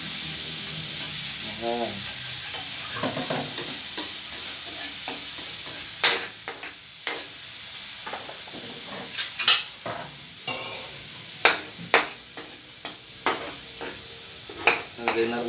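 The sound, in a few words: garlic frying and being stirred in a pan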